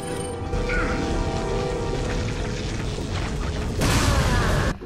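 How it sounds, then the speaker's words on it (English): A loud, dense explosion rumble in the game Resident Evil 4, a sustained roaring blast with clanking mechanical debris over several seconds and a brighter surge near the end, without speech. "How did that explosion not kill him?"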